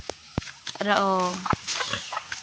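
Chickens give a short run of squawking, clucking calls between voices talking nearby on a farm, with a few sharp knocks and thumps around them.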